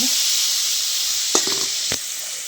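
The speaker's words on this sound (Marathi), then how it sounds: "आता ही ही तूप तळायला लागले बघा" Ghee fries in a pan for sesame-peanut chikki, making a loud, even sizzle near the mic, with a few brief scrapes and clinks of a utensil toward the end.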